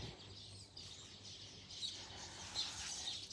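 Colorful birds chirp in quick, high, overlapping tweets, faint and somewhat distant over a low background rumble, with no talking.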